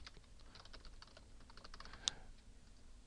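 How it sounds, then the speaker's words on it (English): Soft, close typing on a computer keyboard, a quick run of light key clicks with one slightly sharper tap, faint and without any talking. "and type it in, click OK."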